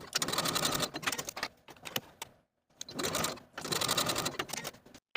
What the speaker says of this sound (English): Sew both short ends with a 3/8 inch seam allowance.